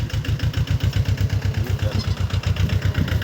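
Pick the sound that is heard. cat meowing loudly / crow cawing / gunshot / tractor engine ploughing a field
tractor engine ploughing a field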